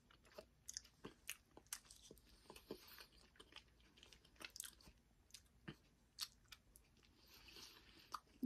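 Someone eats chicken with rice, producing sparse, close crunchy bites and chewing sounds spread across a quiet stretch with no talking.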